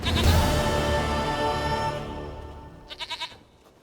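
A goat bleats in The Witcher 3 game, with a rich sustained call over layered game music, followed near the end by a short burst of quick, pulsing bleat-like calls.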